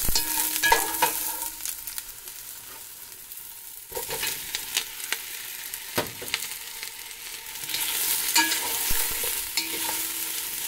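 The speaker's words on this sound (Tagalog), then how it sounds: "So now, igisain natin yung chorizo." Chorizo sautéing in a pan for Spanish callos, a steady close sizzle with scraping stir strokes and clinks of the utensil throughout, loudest toward the end.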